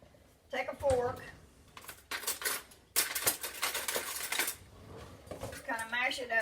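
A fork works through salmon in a bowl, producing scraping clinks and taps against the dish in irregular bursts, close by, while a person talks over much of it.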